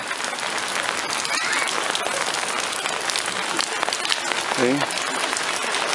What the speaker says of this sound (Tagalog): Umuulan